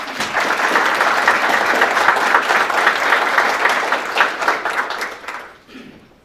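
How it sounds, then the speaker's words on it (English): Audience applause at a Joshua ISD school board of trustees meeting: a full, dense round of clapping from a seated crowd, loud and steady for about five seconds before tapering off quickly. "let's give them another round of applause."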